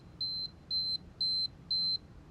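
A visual timer beeps four times in an even rhythm, each tone steady and sustained for about a quarter second, over a faint background hiss.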